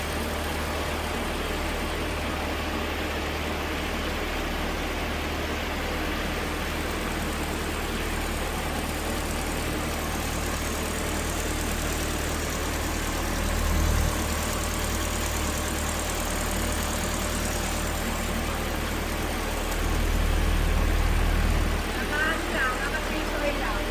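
A Ford EcoSport engine idling in a repair shop, a steady, loud, generator-like drone that runs unbroken throughout with a slight low rumble swelling near the end.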